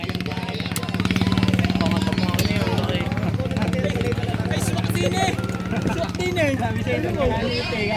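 Racing boat engine running loud and steady at a Philippine boat race, a rapid throbbing rumble close by, with voices talking over it.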